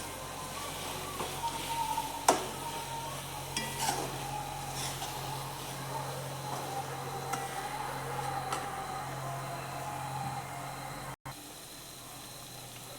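Beetroot halwa being stirred in ghee in a home kitchen, with a steady low sizzle under scattered clinks and scrapes of a spoon against the pan, close by and moderately quiet throughout.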